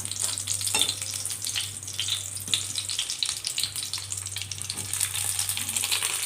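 Stuffed pointed gourds fry in hot oil, a constant bright crackling sizzle close up with small pops and scattered spatter throughout.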